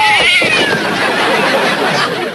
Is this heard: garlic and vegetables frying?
no